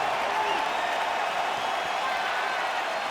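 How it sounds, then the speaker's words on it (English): A virtual arena crowd in the EA Sports UFC fighting game gives off a restless, steady roar mixed with scattered clapping. The sound is a continuous wash of noise with no clear breaks. "Crowd getting a little bit restless."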